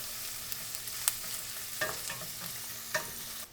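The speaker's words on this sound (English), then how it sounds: "Next, we're gonna add in our onion and our garlic. We're gonna cook this until our onions are translucent." Bacon, onion and garlic fry in a pan with a steady, quiet sizzle, broken by a few soft scrapes and clicks as the mixture is stirred.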